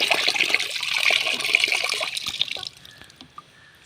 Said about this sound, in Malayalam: ഇതിലേക്ക് നിറയെ വെള്ളം ചേർക്കാം